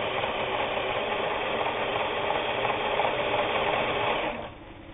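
A Japanese-made Kenmore 158.19802 sewing machine runs a straight stretch stitch, its needle mechanism whirring in a loud, steady, close-up rattle for about four seconds before stopping abruptly.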